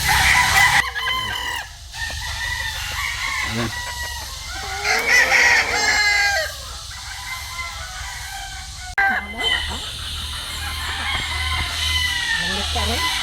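Chickens cluck continuously around a farmyard while roosters crow now and then, with people talking faintly amid the busy background noise.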